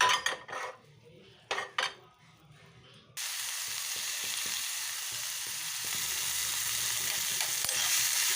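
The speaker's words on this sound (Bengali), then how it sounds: "এবার দেখো আমি এই ডালের তড়কা দেওয়ার জন্য জিরের তেল, জিরে লঙ্কার তেল করে নিয়েছি" A few utensil clinks and taps, then hot cumin and chili oil tempering hits the dal with a sudden loud sizzle that holds steady and hissing to the end, with no talking.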